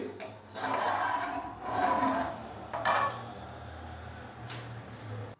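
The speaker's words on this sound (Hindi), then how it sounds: "पानी डालने के बाद अच्छे से हम इसको मिक्स करेंगे।" Rice and water are stirred together in a large pot for degi chicken vegetable fried rice, making several close, rasping scrapes in uneven strokes, three longer sweeps followed by a brief final one.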